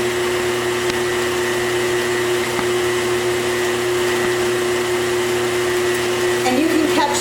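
A blender runs steadily, mixing beer into a cheese dip in a kitchen, with a constant motor whine throughout and a brief rattle near the end.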